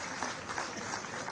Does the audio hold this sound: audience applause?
yes